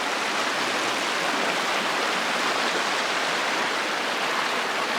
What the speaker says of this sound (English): This is Kings Creek.